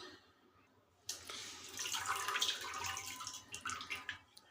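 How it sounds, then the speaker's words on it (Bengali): Water pours and drains from washed coriander leaves through a strainer, starting after a quiet moment as a close, splashing rush with uneven trickles and drips. "পানিটা ছেঁকে নিব।"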